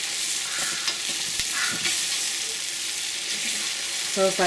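Food frying in hot oil as a student cook flips the pieces, giving a loud, steady close sizzle with a few soft utensil clinks near the end.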